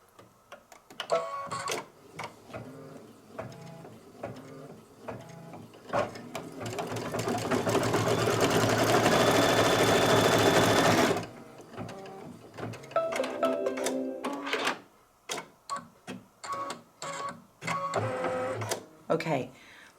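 An embroidery sewing machine stitches background quilting on a quilt block, a fast, even mechanical whir and clatter running for several seconds in the middle, with a person talking before and after.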